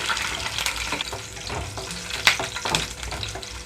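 Green chillies, slit down the middle, frying in hot oil in a pan, with a steady close sizzle and crackle, occasional louder pops and spatters, and no voices.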